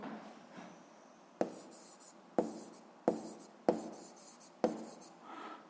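Words being written by hand on paper for a seventh-grade physics exercise, five crisp pen strokes spaced about a second apart, close and quiet, each a short scratch that quickly trails off.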